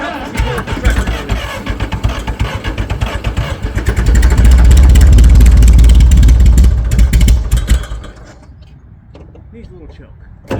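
The engine of an International TD-9 crawler tractor runs close by with a rough, throbbing idle, swelling into a louder, heavier run midway before easing off and dropping away.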